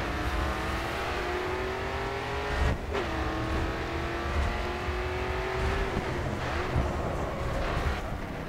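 Race car in GRID 2 accelerating hard, loud steady engine drone rising in pitch with abrupt breaks at gear shifts, a brief tyre squeal, continuous and close.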